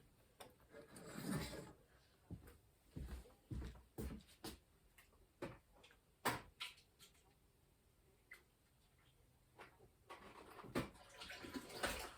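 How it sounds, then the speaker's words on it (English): A kitchen sink runs in short gushes of water at the start and near the end while dyed yarn is handled, with clattering knocks and rubbing in between, all close and fairly quiet. "I'm going to go and stick this in the sink"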